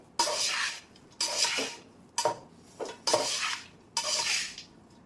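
Cooked rice being mixed into an oil tempering in a pan for raw mango pulihora: five loud, rhythmic bursts of scraping and clattering spoon strokes against the pan, with short pauses between them and no talking.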